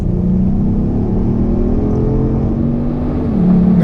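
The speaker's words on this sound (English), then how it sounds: "the engine tone is very good in this" The engine of a 2018 Genesis G80 Sport revs and holds a steady, smooth hum, heard from inside or near the car. The pitch shifts slightly partway through and a faint rise in level comes near the end.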